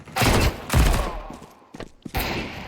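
Gunfire from a weapon in a video game comes in dense, rapid bursts, loud and close, with a short gap before a final volley.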